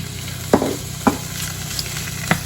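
Celery, onion and pepper sizzle steadily in a hot frying pan for maqluba, while a spoon scrapes and stirs through them in three distinct knocks against the pan.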